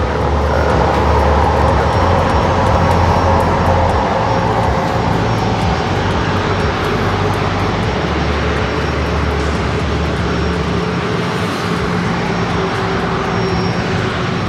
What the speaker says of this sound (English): We got this heavy going to be taken off.